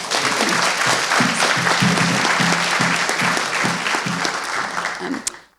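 A conference audience on higher education applauds its panel, a full, steady round of clapping that fades near the end, with a voice faintly underneath.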